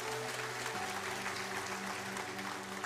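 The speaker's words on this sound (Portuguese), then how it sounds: "Vamos dar uma salva de palmas a Deus por essa palavra." A church congregation applauds during a sermon, steady dense clapping heard at moderate distance with a constant hum underneath.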